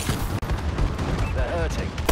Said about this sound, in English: Friendly bombing run incoming.